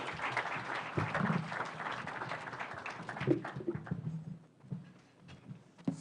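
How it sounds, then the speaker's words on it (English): An audience applauds at a development partnership forum chaired by Kenya's Deputy President, a moderate steady clapping that fades out near the end amid room noise. "Kindly let us give him a round of applause."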